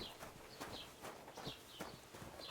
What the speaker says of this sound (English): Why is this horse just sitting here?